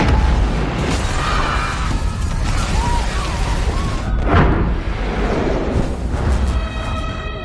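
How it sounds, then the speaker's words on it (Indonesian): An explosion in an action film sounds as a dense, loud roar of blast and rumbling debris, with a sharp burst surging near the middle above a thick, continuous low-end wall of noise. "Namun belum juga Jack bertanya kepada Mac, tiba-tiba tubuh Mac memerah yang kemudian meledak memicu sebuah peristiwa besar yang terjadi di kota tersebut."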